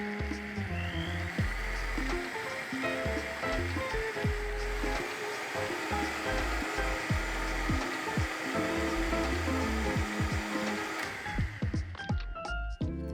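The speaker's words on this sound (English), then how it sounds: "I'm going to just work this blender up to high and we'll get it nice and creamy." A kitchen blender runs on high while blending a healthy green smoothie, giving a steady, loud, dense churning whir that fills the whole clip and cuts off near the end.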